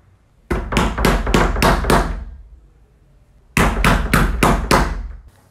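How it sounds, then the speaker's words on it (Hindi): Loud knocking on a wooden door used as a story sound effect: two bursts of five rapid, sharp raps each, close and forceful, separated by a second of silence, with no voices. "अचानक से बहुत जोर से दरवाजा खटखटाने की आवाज आई।"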